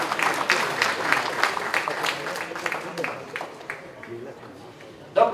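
Applause for three assessors at an opening ceremony, with scattered clapping that thins out over time while voices talk over it, and a sharp knock near the end.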